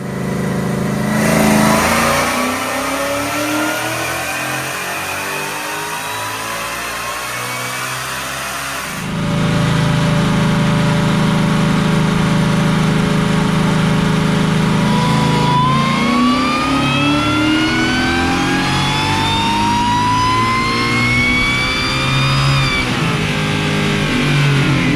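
A GT500-swapped Fox Body Mustang on a dyno at 13 pounds of boost, its engine revving hard toward an 8,000 RPM redline in long rising pulls, loud and close with no talk.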